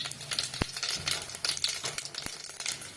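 Crackling sizzle of mustard and cumin seeds popping in hot oil, with a few sharp taps and pops scattered across a short burst.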